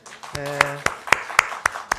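A church congregation clapping in unison to welcome a returning young member, crisp evenly spaced claps at a brisk rhythm, with a short spoken voice near the start.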